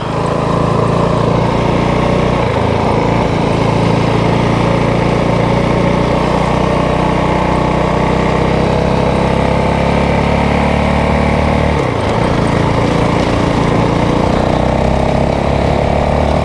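A motorcycle engine being ridden through the Rocky Mountains past lakes and creeks gives a continuous loud droning hum with wind rush, steady throughout with a brief dip in pitch midway.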